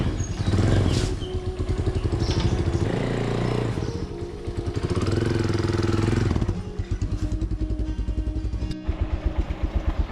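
A motorcycle engine runs loud and close, a steady chugging idle with a rhythmic throb, briefly revving and clattering mechanically throughout.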